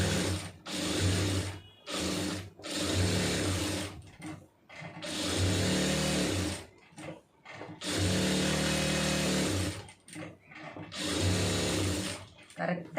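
An electric sewing machine stitches a blouse in repeated bursts of a second or two, its close, loud whirring motor stopping briefly between runs.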